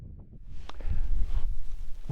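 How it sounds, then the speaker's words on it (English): Low gusting wind buffets the microphone on a fell summit, rising and staying rough and rumbly, with light rustling underneath. "That's windy today."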